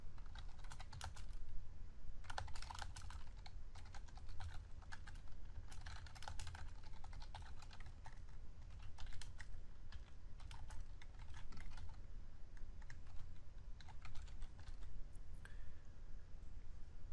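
Close, brisk keystrokes on a computer keyboard as a SQL select query is typed, in dense irregular bursts with short gaps, steady and fairly loud throughout with no talking.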